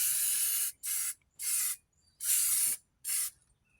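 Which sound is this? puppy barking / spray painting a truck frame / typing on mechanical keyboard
spray painting a truck frame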